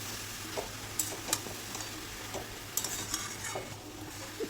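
Boiled dal, cabbage and potato sauté with spices in a pan, a soft low sizzle with scattered scraping stirs and light clicks of a spatula, fairly quiet and without speech.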